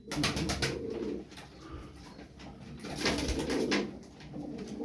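Several costume pigeons, sky-blue double-crested birds, coo in soft, repeated throaty phrases, fairly close, with a steady murmur of background noise.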